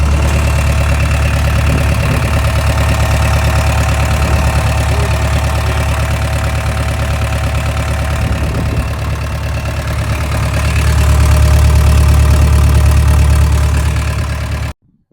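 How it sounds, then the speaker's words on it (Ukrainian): A large combine harvester diesel engine idles steadily and loudly up close, a low rumble with a constant knocking rhythm that swells slightly near the end before cutting off. "Включив мікрофон, щоб було добре чути звук двигуна."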